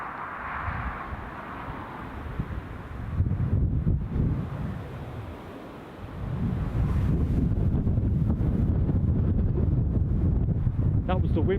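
Strong wind buffets an outdoor microphone at Newcastle International Airport while plane spotting, a steady roar that surges louder partway through and stays heavy to the end, with no talk.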